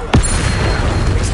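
A spell blast from Hogwarts Legacy, Confringo or Bombarda, lands as a single sharp boom with a sweeping whoosh at the start, then a rumbling low tail that hangs on without speech.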